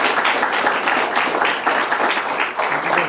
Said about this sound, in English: Let's give these guys a warm round of applause.